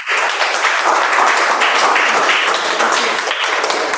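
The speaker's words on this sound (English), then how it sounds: "please give a big round of applause for the Toastmaster Shweta" An audience at a Toastmasters club meeting claps for the Toastmaster, a dense, continuous wash of many hands applauding loudly and close for several seconds.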